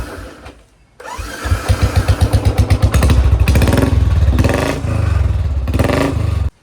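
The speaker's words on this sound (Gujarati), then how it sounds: "અને બુલેટ નો અવાજ જો." A Royal Enfield Bullet motorcycle engine catches after a brief quiet start, then settles into a loud, close, steady thumping beat that rises into harder revving pulses.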